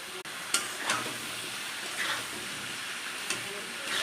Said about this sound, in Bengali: ডাঁটা, কলা, আলু দিয়ে এবার তেলের ওপরে দিলাম